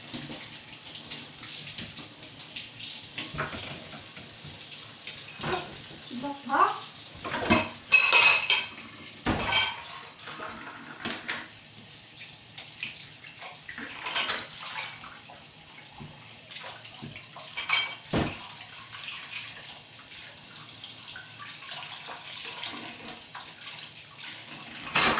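Dishes and cutlery being washed under a running tap in a sink, with steady water flow and repeated clinks and clatters of plates and utensils throughout, close and fairly loud.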